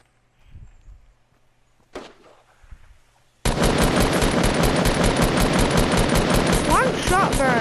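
Gunfire in Fortnite Battle Royale starts after a few quiet footsteps and thuds, then erupts into a loud, sustained stream of rapid automatic shots.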